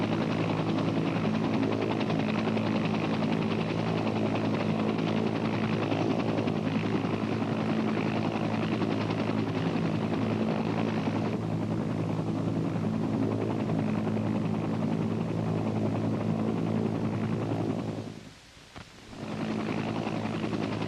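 A helicopter hovers nearby, its rotor and engine droning steadily and loudly, briefly dipping near the end.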